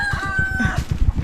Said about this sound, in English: Can hear only the chicken.